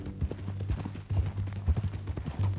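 Horse hooves clip-clop steadily in Red Dead Redemption, a close, rhythmic run of hoofbeats with low rumbling underneath.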